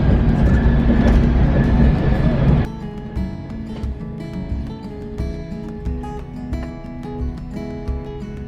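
Inside a modern passenger train in France running along the rails on a route to Nice, a steady rumbling roll with rhythmic clatter, loud at first and then quieter and even.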